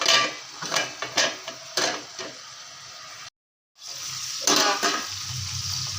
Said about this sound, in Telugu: ఇలా ఒకసారి కలిపేసుకొని మరి మగ్గించుకుందాం ఇది ఫ్రై కాబట్టి వాటర్ వేయకూడదు